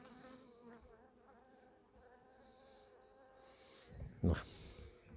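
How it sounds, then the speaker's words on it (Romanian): Steady buzzing from many honeybees at a hive fills the clip, with a brief louder thump or rustle near the end. "Uite ce frumoase sunt albinele astea."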